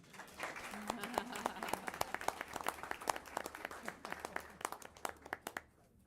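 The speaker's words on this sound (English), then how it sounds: "We can clap for them too." A small crowd at a school board meeting claps for student soccer players, individual sharp claps clearly separable and uneven, with quiet voices murmuring underneath before it thins out.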